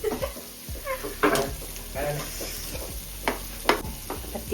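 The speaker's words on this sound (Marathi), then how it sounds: "आता तेल सुटेपर्यंत काही नाही, त्याला हलवत राहायचं कमीवर." Masala for egg curry is stirred as it fries in oil over low heat, soft sizzling with irregular scraping strokes, while a cat meows and voices are heard intermittently nearby.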